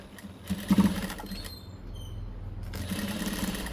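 A sewing machine stitches the sleeve of a frock, a short burst of close mechanical running at first, then quieter steady whirring that picks up again near the end, with no talking.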